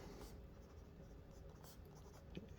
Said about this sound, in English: just trying to get some ink on the paper so we can see what it does